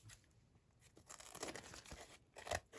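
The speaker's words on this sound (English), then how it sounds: "what I'm going to do is cut the excess off so that we can see what it looks like" Soggy wet paper trimmed from a grungy journal page, heard as quiet, irregular tearing and crinkling bursts between pauses, with the loudest rasp near the end.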